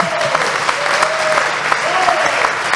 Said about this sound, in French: On applaudit Antoine